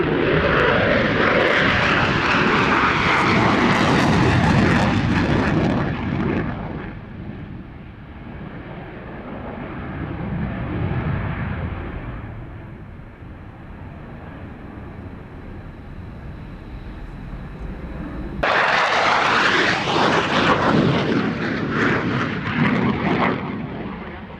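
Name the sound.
Belgian Air Force F-16 fighter jet flying a display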